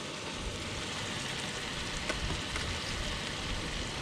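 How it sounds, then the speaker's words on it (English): Mushrooms frying in a pan for a bluegill catch-and-cook meal, giving a steady, even sizzle with faint crackles that holds throughout at low volume, with no talking. "Let those mushrooms cook up real nice."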